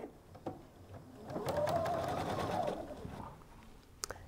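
A sewing machine stitches a quilt in a quiet room, a brief steady whirring run of a little over a second that rises out of soft background noise and then stops.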